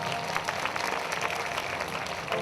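A congregation at a prayer meeting clapping, a dense, sustained burst of applause from many hands at moderate loudness.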